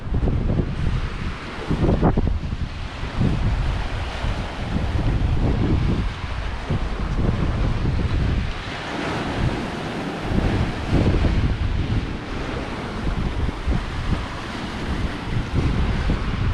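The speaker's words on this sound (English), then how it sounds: "Hopefully the wind's not too bad, you can still hear me alright" Strong wind roars across the microphone on the Cornwall coast near Port Isaac, a loud continuous buffeting rumble with surf in the background.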